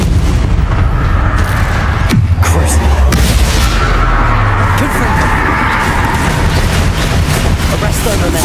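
Bombarda blasting spell in Hogwarts Legacy, a loud booming explosion with a deep rumbling tail under dense, continuous battle noise and other blasts.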